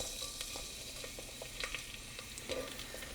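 Garlic fries in olive oil with a soft, steady sizzle. Faint stirring taps sound over the constant hiss, and no voices are heard.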